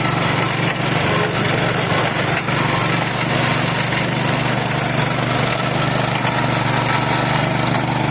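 A motor engine powers a drilling rig out in a field, droning loud, steady and close throughout with a constant hum and rattling mechanical noise, no talking.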